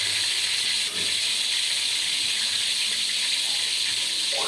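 Pork steak fries in a hot pan, giving a steady bright sizzling hiss close by that continues evenly throughout with no talk.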